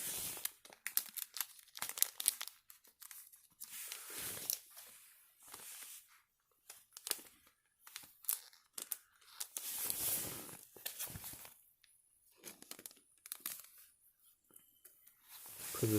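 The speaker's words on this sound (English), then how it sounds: "Let's put this on the sleeve real quick" A Pokemon trading card being slid into a plastic sleeve, heard as soft close crinkling and rustling bursts that come and go irregularly between quiet gaps, fairly faint.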